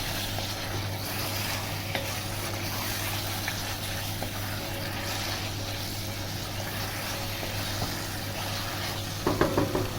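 Chicken curry with green chilies stirred in a pot, a continuous soft sizzle and bubbling under a steady background hum, with a brief burst of clattering stirring near the end.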